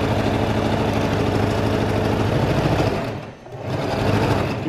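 A sewing machine runs a 5/8 inch side seam on a cloth face mask, its motor humming loud and close in a continuous run that eases off briefly near the end before picking up again.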